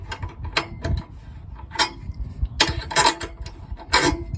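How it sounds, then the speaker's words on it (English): An eye bolt being tightened with a 10mm wrench, giving close, irregular metallic clicks, ratcheting rattles and small clanks in uneven bursts. "I'm just tightening it down"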